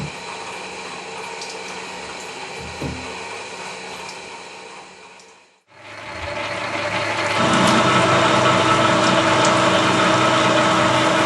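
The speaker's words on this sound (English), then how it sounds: "You hear the machine working." A lathe fitted with an ER32 collet chuck runs with a steady mechanical hum, briefly winds down to near silence, then restarts and settles into a louder, busier whir.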